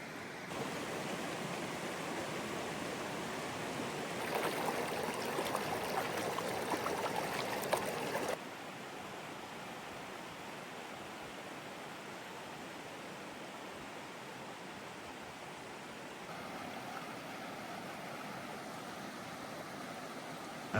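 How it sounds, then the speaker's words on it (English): A mountain stream rushes steadily into Moraine Lake in Banff, a continuous broadband wash of flowing water heard at moderate distance, with a brief louder, brighter stretch early on. "At the end of the lake is this gorgeous mountain stream flowing into the lake"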